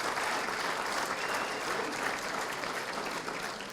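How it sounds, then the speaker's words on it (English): An audience at a school district athletic hall of fame event gives a warm round of applause, many hands clapping steadily for a few seconds before tapering slightly. "So let's give Tyler a nice round of applause for all the work he does."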